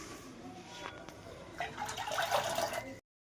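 Dried peas drop into a bowl of water for soaking, giving close, light patters and trickling that grow busier before cutting off into silence.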